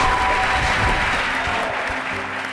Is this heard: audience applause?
yes